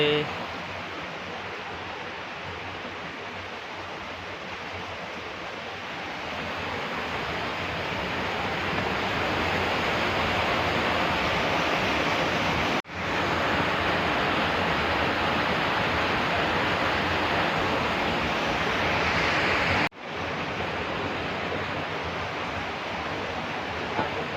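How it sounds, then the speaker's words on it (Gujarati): Steady rushing water fills a cave, a broad continuous roar like a stream or small fall echoing in the enclosed space, with brief dropouts. "પાણીનો અવાજ પણ તમને આવતો હશે"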